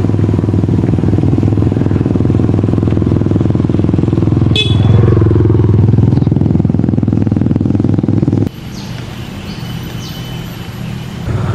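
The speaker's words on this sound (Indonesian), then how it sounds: "Waduh, ada motor dulu." Motorcycle passing on a rural road near a rubber plantation, a steady loud engine drone that holds for about eight seconds, then drops away abruptly into quieter background hum.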